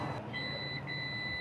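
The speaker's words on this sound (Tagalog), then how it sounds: "Buzzer talaga, oh." A multimeter in continuity buzzer mode beeps on a shorted power amplifier output, giving a steady, thin electronic tone with a brief break, quiet and without talk.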